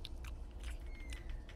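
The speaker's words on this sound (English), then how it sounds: "Who the fuck's just munching?" Wet munching and chewing close up in a horror video game, a steady run of crunchy, squishy bites over a low droning background, with no talk.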